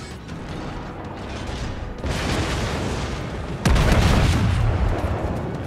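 Heavy main-battery salvos from the battleship Warspite in a naval battle game, booming broadband blasts that step up in loudness around two seconds and again near 3.7 seconds, with rumbling low end sustained between.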